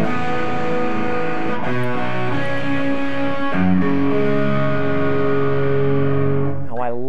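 Guitar playing a bitonal pendulum pattern with an added ninth, ringing chords and notes swinging back and forth through effects with some distortion, close and steady, ending on a wavering bend.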